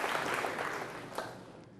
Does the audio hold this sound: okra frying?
no